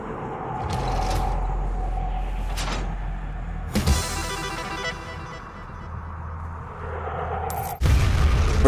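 A heavy boulder grinds and rumbles aside after a lever is pulled in the DOOM mission Argent D'Nur, a low sustained scraping rumble with a sharp thud partway through, set against ambient game drone.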